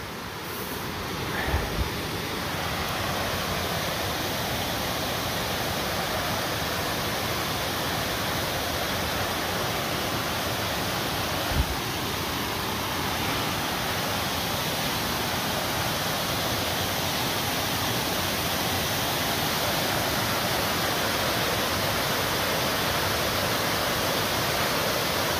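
Virginia Hawkins Falls runs heavy with high water, a steady, loud broadband roar of falling water filling the whole scene without a break, with a couple of faint knocks.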